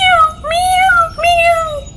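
A cartoon cat lets out three loud, close meows after falling from a tree, each a rising-then-falling cry with short gaps between.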